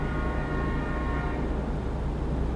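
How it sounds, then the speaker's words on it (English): A train on a railway line in Louisiana, heard from inside a truck cab, its locomotive horn sounding as a steady tonal blast over a constant low engine rumble, with no talking. "Ah, there's a train."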